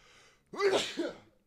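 A single loud, close human sneeze bursts out after a faint lead-in breath, with a brief tailing exhale.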